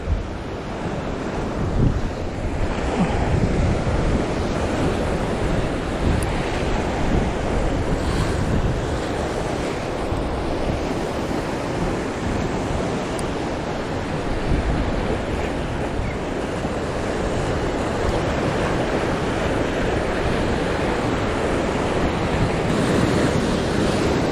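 Ocean waves roll and wash continuously at Dibayabay, San Luis, Aurora, while strong wind buffets the microphone, a loud, rough roar with no clear breaks.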